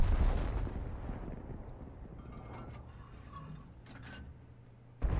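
A tank cannon fires in an armored combat video game, one heavy booming shot at the start that rumbles and decays before another blast begins at the very end.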